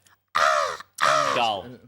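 A person mimics a gull call with their voice, giving two loud, harsh squawking cries close to the microphone, separated by a brief pause.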